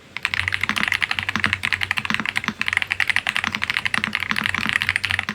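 Typing on a stock AJAZZ AK870 mechanical keyboard gives a rapid, continuous stream of close, crisp key clacks at a brisk, uneven rhythm, heard alone with no voices.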